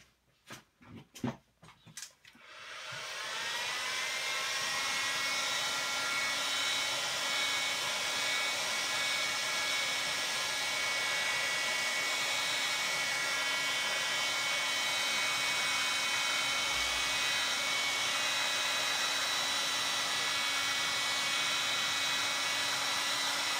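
After a few sharp clicks, a heat gun starts and blows a steady, loud, even whoosh with a constant whine while heating around the screen of a Sony Xperia Z3 Compact phone.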